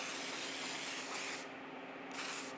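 Close continuous hiss of an aerosol gloss coat sprayed onto a 1/4-scale Aquaman resin casting, two sustained bursts separated by a brief dip.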